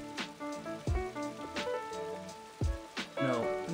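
Rain falls steadily in the video game Blue Reflection Sun, heard as a soft patter beneath game music with its chiming tones and low swells.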